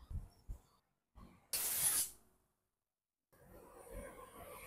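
A short burst of spray washing scooter parts during a belt change, a loud hiss lasting about a second amid quiet clanks and handling sounds.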